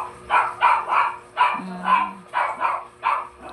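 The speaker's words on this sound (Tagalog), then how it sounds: "Si Chubby, yung aso ng kapitbahay namin." A neighbour's dog named Chubby barks repeatedly in sharp, evenly spaced woofs, moderately near, with a short whine between barks.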